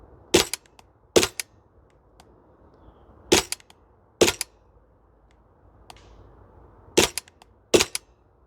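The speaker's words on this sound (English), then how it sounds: "That's the 55 wood target that I'm hitting." Maruyama MP9 airsoft gun shots striking a wood target on an outdoor range in cold weather, sharp cracking impacts in quick pairs separated by pauses, distinct and close.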